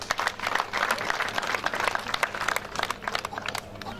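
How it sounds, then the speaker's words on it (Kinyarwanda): A crowd claps steadily at an outdoor Umuganura harvest celebration in Huye, Rwanda, producing dense, moderately loud applause with sharp individual claps standing out throughout. "murabona ari bikeya, mwongere muyiha amashyi"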